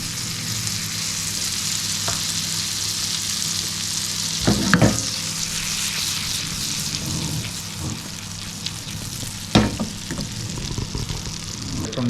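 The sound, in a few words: butter sizzling in a pan for lobster sauce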